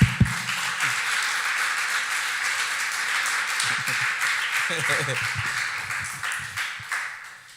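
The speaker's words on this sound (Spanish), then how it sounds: "De un aplauso pues al Señor." Applause from a church congregation fills the room at a steady, moderate level for several seconds, with a few voices calling out beneath the clapping before it tapers off at the end.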